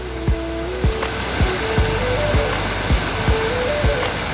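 Muwa waterfall in Nepal pours steadily in a dense, even wash of falling water, with regular low thumps recurring about every half second beneath the flow.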